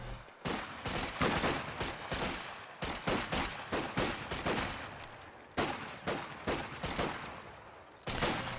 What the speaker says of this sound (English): MG42 sets up here on the cutoff in a safe range to engage against these rear echelons in the garrison